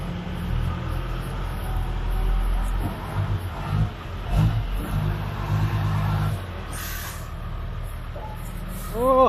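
A SANY SY135C excavator, about 13.5 tonnes, drives up onto a trailer with its front wheels lifting. Its diesel engine rumbles low and steady, with a couple of louder surges and a brief squeal near the end, while people talk now and then.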